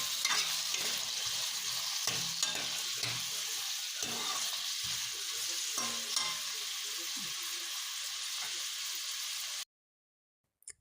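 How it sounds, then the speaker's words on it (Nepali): Potatoes fry in a pan over low gas for a winter bean and potato curry. A soft hiss runs under repeated scraping stirs, then stops abruptly into near silence with one small knock at the very end. "प्याज रातो भइसकेपछि आलु हालेर भुटेँ। आलु भुट्दा मैले यहाँ सानो ग्यास बनाएर भुटेकी छु।"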